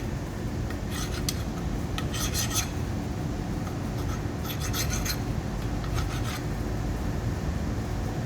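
A machined workpiece is deburred by hand in a shop, with rasping, scraping strokes coming in short clustered bursts over a constant loud background hum.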